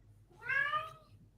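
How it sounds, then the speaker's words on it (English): A single cat gives one clear, drawn-out meow lasting about half a second, close and fairly soft, with a quiet low hum beneath it and no talking. "he's going to stop meowing now on cue"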